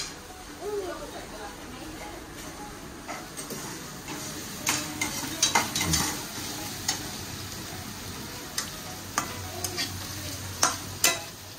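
Onions stirred in a pan at home, giving scattered scraping clicks and a low frying sizzle, with people talking nearby over the cooking noise.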